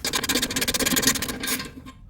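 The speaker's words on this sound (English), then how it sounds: "let's loosen this nut over here" A wrench works a nut loose on a car's front Airmatic suspension strut, giving a close, rapid ratcheting rasp that runs for about two seconds before stopping.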